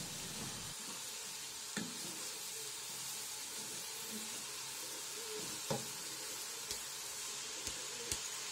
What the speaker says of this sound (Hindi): मोंगरों को हम 4 से 5 मिनट के लिए भूनेंगे।